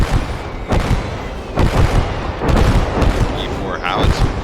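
Artillery barrage in the World War II game Gates of Hell, heavy booming blasts landing every second or so, loud and near, with rumbling between impacts and a voice talking faintly over it.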